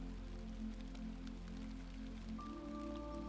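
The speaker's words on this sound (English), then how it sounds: "The rain is falling gently now, soft and steady on the porch roof." Gentle, steady rain falls on a porch roof as a soft continuous patter with scattered drips. A faint low tone runs underneath and no one speaks.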